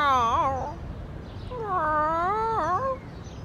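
A cat meows twice, a short plaintive cry followed by a longer, wavering yowl, close by with a little background noise.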